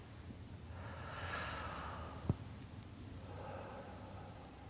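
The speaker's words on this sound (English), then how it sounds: "Breathing in through my mouth." A person draws slow, deep breaths in through the mouth and lets them out again, each breath a soft airy rush heard close and quiet, with one short sharp sniff partway through.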